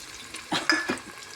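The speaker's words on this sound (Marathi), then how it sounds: "आता आपण त्याच्यात कांदा टाकू." Onion with ginger and green chilli stirred in hot ghee for pea paneer pulao gives a brief, close scraping and sizzling stir, a few soft utensil strokes over a quiet background, with no talking.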